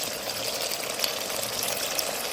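Hot water pours into a pot of braised country chicken curry as a steady, close, moderately quiet rushing gush with no pauses.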